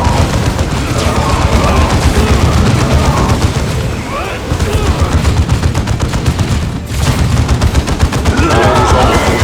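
Rapid gunfire and booming blasts from the Dawn of War 2 video game, dense continuous volleys with a brief lull midway, loud and close, mixed with in-game battle noise.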